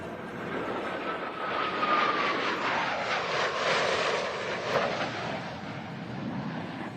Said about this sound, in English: Blue Angels 5 and 6 are approaching the flight line